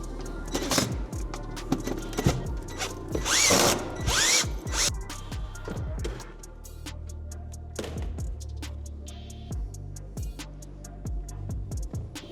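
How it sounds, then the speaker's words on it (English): A cordless power drill backs out T30 Torx screws on a 2021+ Ford Mustang Mach-E, giving several short whirring bursts with clicks and ratcheting taps between them, close and loud. "You don't have to have a drill, but I got a drill to make my life a little easier here."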